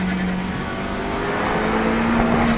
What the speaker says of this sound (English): Feel that engine whizzing and popping.